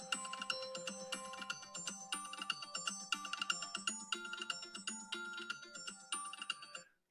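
A phone ringtone plays alone, a bright electronic melody of rhythmic chiming notes repeating steadily for about seven seconds before cutting off.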